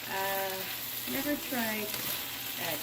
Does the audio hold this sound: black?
yes